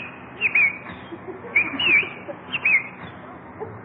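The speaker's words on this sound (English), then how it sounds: "Oh, Jack, look at that beautiful bird on your lawn" A radio-show sound effect of a bird on a lawn gives three short bright chirps spaced about a second apart, clear and close against a faint background hiss.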